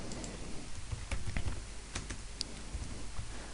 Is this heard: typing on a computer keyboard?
yes